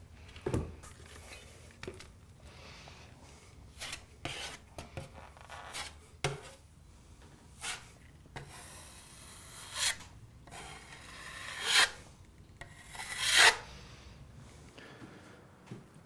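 Dried plaster compound being sanded smooth on a plasterboard wall during a small hole repair, heard as irregular scraping and rubbing strokes, mostly soft, with a few louder, sharper passes near the end and no speech.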